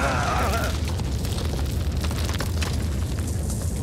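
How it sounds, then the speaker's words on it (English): Explosion in a generator room in the game Blake and Mortimer, a dense rumbling boom with fiery crackle that sustains at a steady loud level throughout, with a brief voice at the start. "Attention all hands! Explosion in the generator room!"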